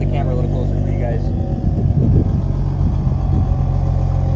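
A car engine sold as a BMW M4 but fake idles loudly up close with a low, uneven, lumpy rumble that holds steady throughout, exhaust valves closed.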